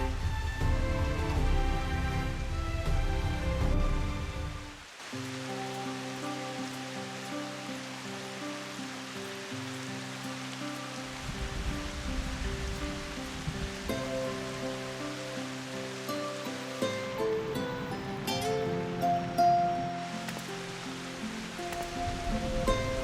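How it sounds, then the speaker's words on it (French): Rain falls in the video game Final Fantasy XIV, a steady soft hiss running throughout beneath layered, sustained game music. "Pourquoi il pleut maintenant?"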